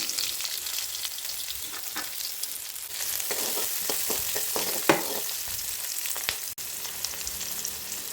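Onions fry in hot oil in a pan, a steady close sizzle with occasional crackles and stirring scrapes running throughout, no voices over it.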